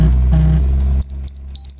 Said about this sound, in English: Sorry, I just got a text message.